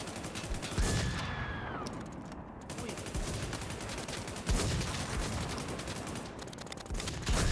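Rapid gunshots crackle in a shooting video game, dense overlapping bursts and sharp reports running continuously at moderate loudness, with a few stronger shots standing out and brief synthetic tones near the start.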